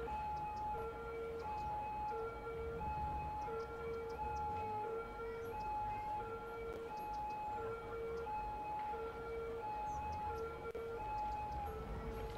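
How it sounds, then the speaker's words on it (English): Wailing emergency sirens from a city-building game, several overlapping electronic tones rising and falling in a steady repeating cycle, moderately loud and continuous with no talk. "those sirens are bothering me too"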